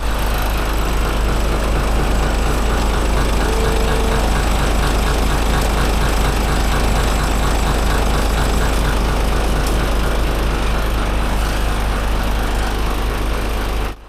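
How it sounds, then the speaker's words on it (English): A vehicle engine submerged in river water for cooling, near a riverside camp in Nagtipunan, Quirino, runs at a steady, unbroken drone for the whole stretch, loud and close with no talk over it. "That's their engine, look."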